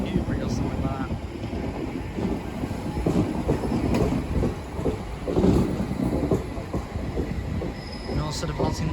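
A passenger train arriving from Newbury pulls in to terminate at London Paddington on the Great Western Main Line, with a steady rumble, wheel squeal and clatter under the station's roomy echo, loud and continuous throughout.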